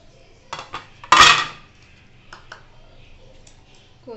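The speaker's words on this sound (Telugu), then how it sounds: "నెక్స్ట్ మళ్ళీ రైస్ని వేసుకోవాలి." Rice is dropped into a metal pot for mutton dum biryani, giving a sharp scraping clatter and a short burst of grains landing, with a few light metallic clinks before and after, close and quiet otherwise.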